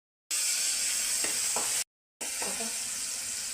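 Mustard seeds sizzle and crackle in hot oil for a drumstick bharta, with two steady bursts of frying hiss split by a brief silence and faint pops scattered through.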